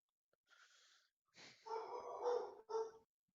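Dogs barking and whining in a tabletop role-playing game session: a few short, nasal yelps and barks in quick succession, moderately loud with no talk over them.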